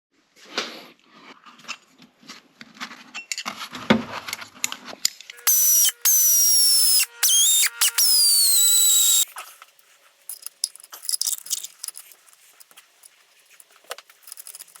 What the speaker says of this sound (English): I'm going to go grind a gear.